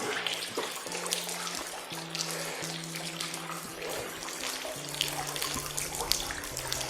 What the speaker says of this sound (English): That's the water coming down here.